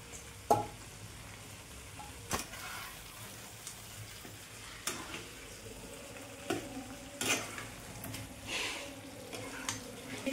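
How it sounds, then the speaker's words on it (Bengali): Potatoes and paneer being sautéed for aloo paneer dum in a pan, a steady low sizzle broken by repeated sharp scraping and clanking stirs of a spatula against the metal at irregular intervals. "পনিরটা এবার আমি এর মধ্যে দিয়ে দেব, আর একটু ভালো করে আলুটা দিয়ে কষিয়ে নেব।"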